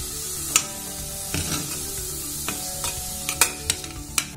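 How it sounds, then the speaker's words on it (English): A spoon scrapes and knocks around a pan as corn is stirred with roasted ginger and garlic over a soft, steady sizzle, with occasional sharp clinks close by. "Now mix this well."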